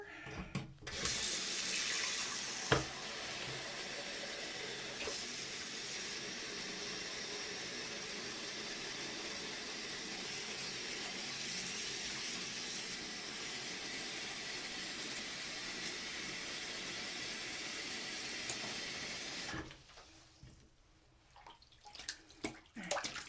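Water runs steadily from a tap into a sink to soak a stuffed toy for about twenty seconds, a constant broad hiss, then cuts off, leaving a few small handling sounds.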